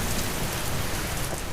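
Heavy rain pours down in a dense, steady hiss with no pauses or voices.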